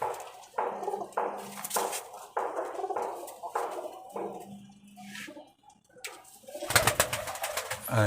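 Pigeons coo repeatedly in low throaty pulses close by, with rustling and a burst of wing flapping near the end.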